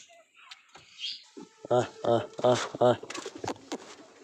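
Racing pigeons coo in a run of four or five soft, throaty calls close by, with a few faint knocks and rustles before and after.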